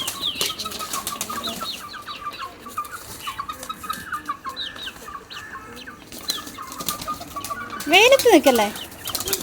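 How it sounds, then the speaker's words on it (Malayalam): A quick burst of pigeon wings flapping close by near the end, after scattered bird calls, with a voice speaking and faint background activity. "ഇതാ വന്നോ പ്രാവ്."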